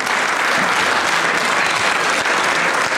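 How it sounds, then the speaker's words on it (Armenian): A studio audience applauds the My Bike company on an evening TV show. The clapping is loud, dense and continuous, close up and without a break. "My Bike-ին խնդրում եմ ծափարենք"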